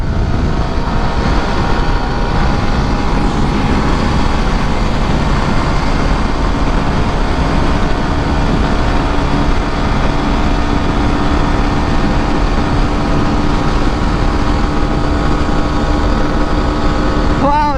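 Yamaha R15 motorcycle ridden at high speed and shifted up without the clutch, its engine and wind roar droning steadily and loudly up close for the whole stretch.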